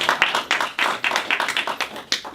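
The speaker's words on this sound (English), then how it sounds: "So round of applause for that." Meeting attendees give a short round of applause, a quick burst of close, distinct hand claps at a lively uneven rhythm.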